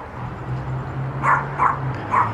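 A small dog gives three quick, sharp yips at moderate distance over a steady low hum and background noise.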